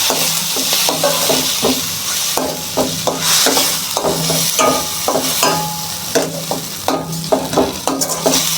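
A paste of garlic, cumin, ginger and dry red chili sizzles loudly in a pan while a spatula stirs it in repeated, fairly regular scraping strokes over the constant frying hiss.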